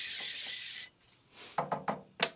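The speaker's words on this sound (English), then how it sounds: "I'm gonna clean it off with my Sabatoru Rust Eraser." Diamond plate scrubbed with a rust eraser block: a long steady rubbing hiss, then a brief pause, then four short separate scrubbing strokes, close and fairly loud, with nobody talking.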